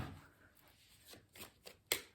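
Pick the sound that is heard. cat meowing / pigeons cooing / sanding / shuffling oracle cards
shuffling oracle cards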